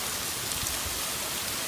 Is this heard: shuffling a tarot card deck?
no